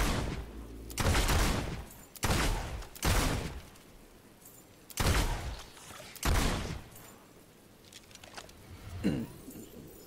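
Gunfire in the fantasy video game Fable II comes as about seven short, sharp bursts spread unevenly over several seconds, loud against a quiet background.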